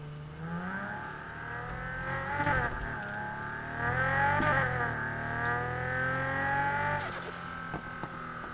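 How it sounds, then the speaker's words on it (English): In the NFS Heat video game, a turbocharged Nissan 350Z engine revs and pulls hard, its tone rising and falling through several gear changes. It is loud and continuous with a few sharp transient clicks and no talking. "Turbo sounds good."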